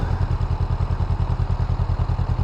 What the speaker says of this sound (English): And the ever so smooth Honda motors.